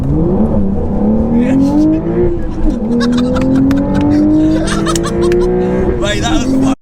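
A modified Porsche 911 992.2 with a manual gearbox accelerates hard, engine revving in a steadily rising, loud close drone from inside the cabin, with a short shift dip and laughter and excited voices from occupants.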